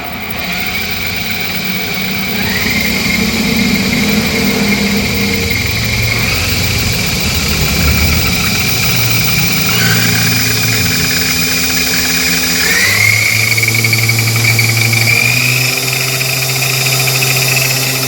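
A Honda Activa scooter converted to a petrol-electric hybrid runs steadily with a loud, continuous engine hum and vibration, its pitch shifting upward a couple of times as it revs, with no talking.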